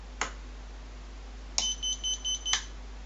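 A Furibee Darkmax 220 racing drone's beeper gives a single sharp beep, then after a pause a rapid series of four or five high electronic beeps closing with another, loud and close with no talk.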